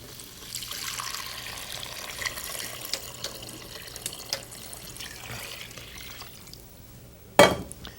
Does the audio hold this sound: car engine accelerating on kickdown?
no